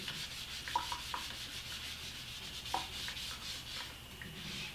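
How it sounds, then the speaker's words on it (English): A wet sponge gently scrubs a Black Berkey filter element with its rough side, giving a soft, close, continuous rubbing hiss with a few brief scratchy strokes. "And then I'm just going to scrub gently with the rough side."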